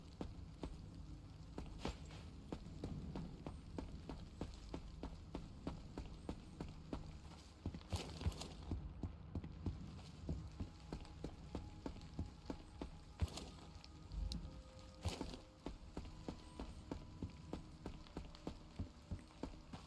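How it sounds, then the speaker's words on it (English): Steady rainfall in the survival shooter Road to Vostok, a continuous patter of drops on surfaces with occasional sharper ticks and thuds, heard alone with no talking. "Okay, it started raining again."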